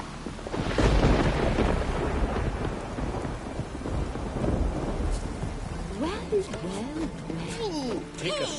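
Heavy rain pours steadily while deep thunder rolls and rumbles through the first half, with a loud, dense wash of noise throughout and some faint higher chirping or squeaking sounds appearing near the end.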